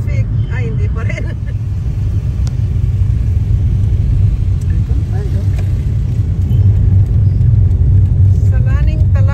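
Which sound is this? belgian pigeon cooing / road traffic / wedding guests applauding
road traffic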